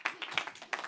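A lecture audience claps in a brief burst of several hand claps, fairly close and alone.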